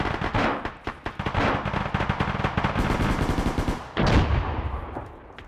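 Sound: gunfire from a building in a military video game

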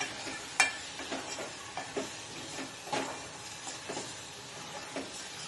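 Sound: frying prawns in a pan, stirring

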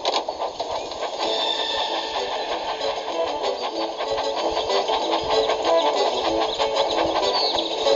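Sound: Thomas the Tank Engine train from a video game

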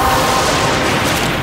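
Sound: explosion in Warframe video game

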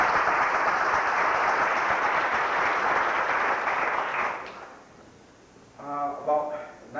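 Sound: audience applause at an award ceremony

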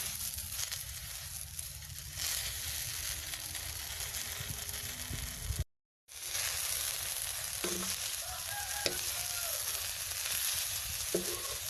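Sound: mulberry leaves dry-roasted in a pan over low heat

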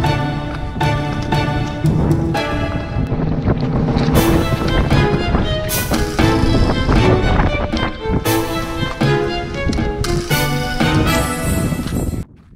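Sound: wind blowing outdoors, snowy area

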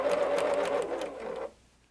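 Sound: sewing machine stitching orange and blue fabric

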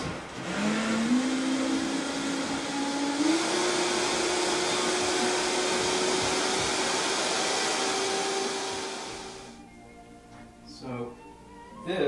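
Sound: high-powered blender mixing raw chocolate mousse

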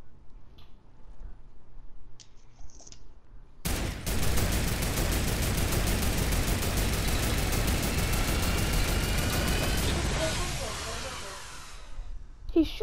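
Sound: gunfire in Fortnite video game

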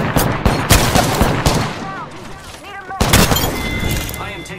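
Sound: gunfire in video game Apex Legends

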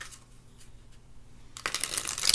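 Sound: shuffling a deck of tarot cards

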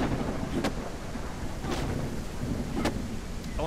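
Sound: thunderstorm in video game No One Survived

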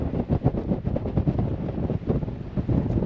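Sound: strong wind blowing at the Saar loop

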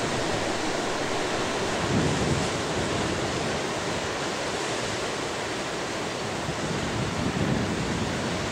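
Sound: ocean waves at Cape Vlamingh, Rottnest Island

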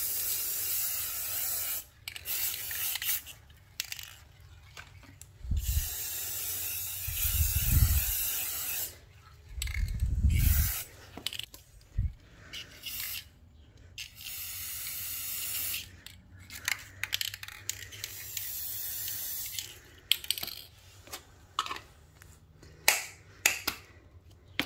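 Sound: spray painting with spray paint through a stencil

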